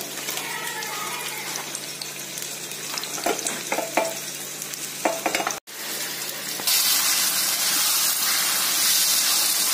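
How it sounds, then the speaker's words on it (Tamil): Cashew nuts fry in a little ghee for a Malabar chicken biryani garnish, a loud, close, continuous sizzle with stirring scrapes, a brief break midway, then a brighter, steadier hiss. "கொஞ்சோண்டு நெய் போட்டுட்டு அதுல நம்மளோட கேஷ்யூ நட்டை பொரிச்சு வச்சுக்கோங்க"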